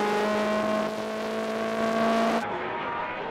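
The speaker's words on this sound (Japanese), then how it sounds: "エンジンの回転がばらつく。" Race car engine running unevenly with a fault, a loud steady mechanical drone with wavering pitch that cuts off abruptly partway through, leaving a duller, quieter engine hum.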